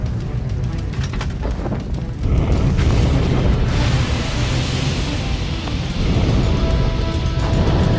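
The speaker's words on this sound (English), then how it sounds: "Watch out for explosions!" Explosion in a firefighter video game: a deep, loud rumbling boom bursts in after a quieter start and rolls on as a dense, roaring wash of noise that swells again toward the end.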